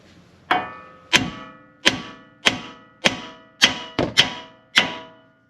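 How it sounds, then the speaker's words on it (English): A 2-pound hammer strikes a truck's steering knuckle eight times in a steady rhythm to break loose a ball joint, each sharp ringing clang decaying quickly, close and loud with no talking. "we're going to hit right here with a 2-pound hammer till this breaks loose and falls down"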